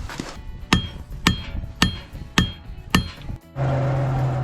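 A hammer strikes the end of a steel rod to flatten it for a shovel handle, delivering five sharp, evenly spaced metallic blows close by, followed by a steady humming drone from a forge or blower.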